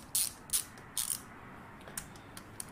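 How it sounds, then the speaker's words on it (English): Ratchet clicking as it unscrews valve cover bolts on a Royal Enfield Continental GT 650: a few sharp, close metallic clicks in quick bursts, then fainter scattered ticks, with no talk. "now we're going to unscrew the valve cover bolts. There's just 4 of them. You can get to them with a wrench or you can get to them with a ratchet."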